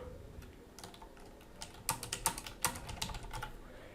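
Someone typing a WordPress post title on a computer keyboard, quiet at first, then a quick irregular run of close, crisp key clicks growing denser toward the end.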